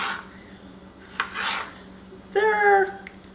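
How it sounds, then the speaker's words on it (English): A knife cuts fresh tomatoes into chunks for tomato sauce, with soft rasping cuts followed by a ringing metallic scrape and clink against a board or pan, close and unaccompanied by speech. "6 to 8 good sized tomatoes. We're going to cut those into chunks."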